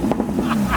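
A Porsche Cayman 981 GT4 with headers and sports exhaust rumbles low and throaty at close range, a brief, steady burble with slight pulsing.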